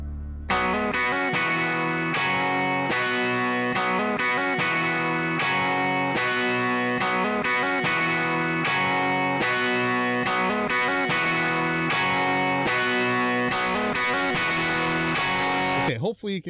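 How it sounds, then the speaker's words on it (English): Asymmetric clipping distortion from a driven microphone preamp, heard as a loud, continuous buzzy saturated tone with dense harmonics and repeated rhythmic stabs, filling the whole stretch with a sudden cut at the end. "That's already clipping asymmetrically."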